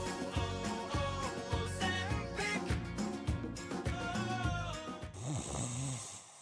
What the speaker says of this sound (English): many problems that can keep you up at night, like snoring